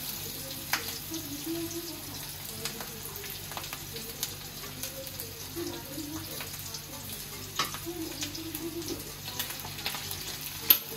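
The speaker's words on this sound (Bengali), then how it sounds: "পেঁয়াজটা কাঁচামরিচটা ভাজা ভাজা হবে একটু হালকা" Onion and green chilli frying gently in a pan, a soft, continuous sizzle at low volume with occasional small clicks and taps, no talking.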